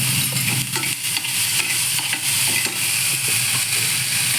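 Green peas and poha stirring and sizzling in a hot pan, a steady frying hiss broken by repeated scraping strokes of a spoon, close and loud with no talking.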